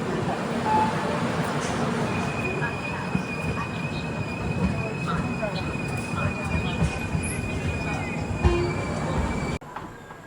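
The Rewanchal Express pulls out of Satna Junction with a steady rumble of wheels on rails, a thin high squeal over it, close and continuous until it cuts off near the end.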